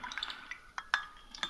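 Measuring spoons stirring and mixing glycerin or aloe vera gel hand sanitizer ingredients, giving faint, scattered metallic clinks and scrapes at an irregular pace.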